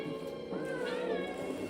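A cat meows in a played-back recording, a drawn-out rising and falling cry heard over a low background hiss.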